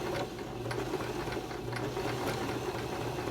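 A Baby Lock Zest sewing machine stitches a blind hem on knit fabric, giving a steady close mechanical whir with rapid rhythmic ticking of the needle going back and forth.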